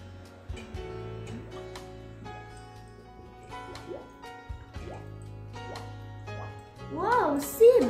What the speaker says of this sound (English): Wow, see bubbles.